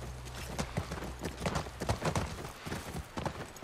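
Horse hooves in The Last of Us clip-clop in a quick, uneven rhythm, close by and steady for several seconds, with no talking.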